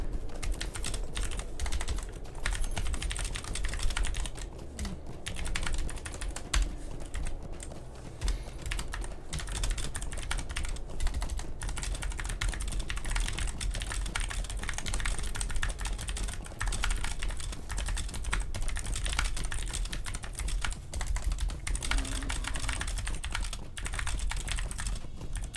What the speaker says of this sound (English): I was typing in kinship